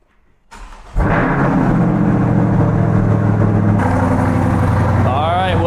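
A C8 Corvette's engine cranks and fires up after a throttle body swap to a C7 ZR1 LT5 unit, then settles into a loud, steady idle, with a short click and whir before it catches.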